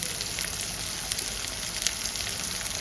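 Bone-in chicken pieces fry in a pan for a yogurt chicken curry, giving a steady, close, dense sizzle throughout with no talking.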